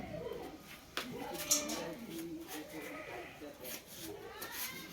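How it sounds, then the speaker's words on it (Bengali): A stray calf bleats and cries in repeated plaintive calls close by, mixed with people talking over it. "বাছুরটা রাত থেকে এরকম করে কাঁদছে"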